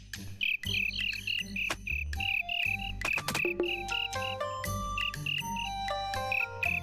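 Crickets chirping during a cricket fight in the video game Scroll of Taiwu, a rapid repeating series of bright chirps over a bed of game music and tinkling tones.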